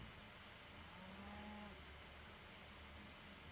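A cow moos faintly in the video game Wasteland 2: a single drawn-out low moo rising over quiet game ambience, with no talking.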